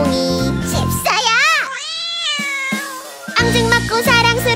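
A voice imitates a cat's meows in a children's song, with drawn-out rising and falling meow-like calls over a bright, bouncy musical backing.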